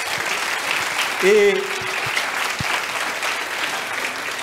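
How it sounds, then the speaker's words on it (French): An audience at a mayor's New Year's greetings ceremony in Port Saint Louis du Rhône applauds the sub-prefect's chief of staff, steady clapping throughout with a voice speaking briefly over it. "je vous demande de l'applaudir"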